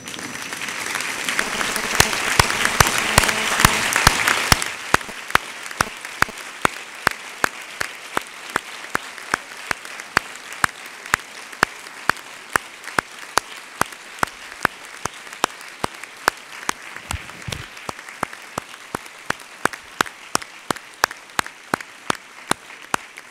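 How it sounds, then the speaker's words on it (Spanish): A standing audience at a university diploma ceremony for industrial design graduates claps in a dense burst at first, then settles into slow, loud, rhythmic unison claps that repeat steadily to the end. "os ponéis en pie, os dais la vuelta y les agradecéis con un enorme aplauso esa colaboración"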